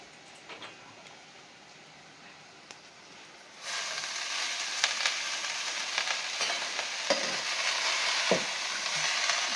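Amaranth greens drop onto onion and green chili frying in a pan. A quiet low sizzle suddenly swells into a loud, dense hiss, followed by scraping strokes as the greens are stirred.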